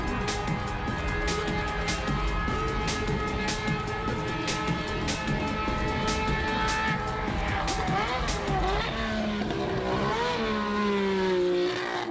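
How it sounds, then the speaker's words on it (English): A Nissan Skyline Hakosuka GT-R race car laps Fuji Speedway, its engine note loud and sustained as it rises and falls through gear changes and revs, with a second pitch sweeping in near the end. "The Hakosuka GTR's final laps at Fuji Speedway."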